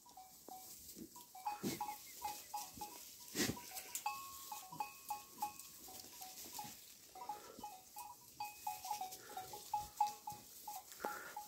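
A flock of sheep and goats moves along with clinking bells ringing irregularly throughout and occasional bleats, at moderate distance in open countryside, with no talk.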